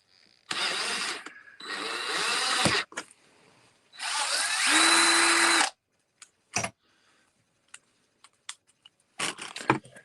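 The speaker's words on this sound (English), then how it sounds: "So then I take this and I drill a small hole." Power drill boring a small vent hole in a plastic bucket lid for a float valve: several close, loud whirring bursts with pitch shifts, followed by sparse clicks and taps.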